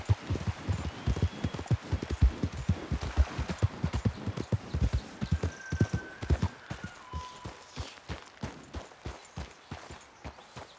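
Horse hooves clip-clop at a steady walking pace in the video game Red Dead Redemption 2, close and even throughout, with faint outdoor ambience.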